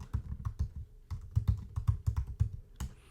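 Keystrokes on a computer keyboard during a Linux command-line session, ending with a Control D press: a close, steady run of crisp clicks, about a dozen taps in just over three seconds with short pauses, and no voices.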